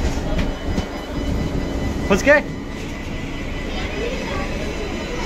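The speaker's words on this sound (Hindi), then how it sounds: "देखिए दोस्तों सब मेट्रो के अंदर आ चुका है और मेट्रो के अंदर बैठ भी चुके हैं" Inside a moving metro train carriage, a steady low rumble and rolling noise fill the space, with a brief voice speaking partway through.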